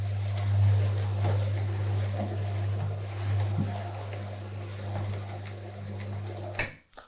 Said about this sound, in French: On va monter le volet roulant pour voir si le volet est déjà réglé.